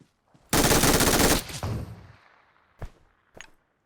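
Automatic gunfire in the PUBG Mobile battle royale game: a loud, dense burst lasting about a second, a fading tail, then two sharper isolated shots a little later.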